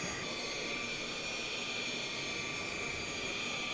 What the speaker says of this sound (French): avec la machine, je l'étale uniformément sur la surface